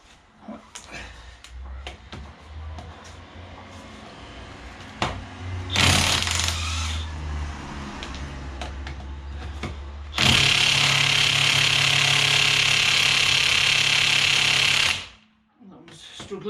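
A power tool works on a locking wheel nut of a 2007 VW Beetle, with a short loud burst followed by a long steady whirring hammer-like run that then stops abruptly. Faint voices are heard underneath.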